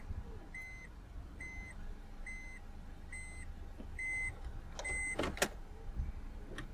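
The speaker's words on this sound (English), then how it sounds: "the obligatory, in Japan at least, reversing beeper" A 2012 Honda N-Box Custom gives its reversing warning: a clear, regular electronic beep repeats about six times at an even pace. It sounds fairly close, over a low idle hum inside the car.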